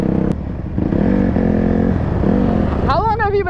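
A quad ATV engine revs and drones while being ridden hard, loud and close, rising in pitch near the end, with a voice talking over the motor.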